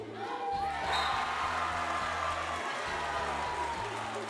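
A high school student cheering section crowds the stands at a game, with steady crowd roar and cheering, layered under a strong rhythmic low-pitched drumming or musical beat.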